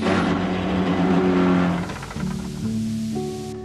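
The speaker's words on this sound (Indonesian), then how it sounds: "tapi saat hendak berangkat, bus itu malah mogok" A bus engine breaking down at departure, heard as a loud, close motor revving and droning before it falters and sinks into a lower, uneven running tone.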